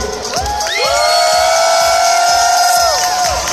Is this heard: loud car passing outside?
no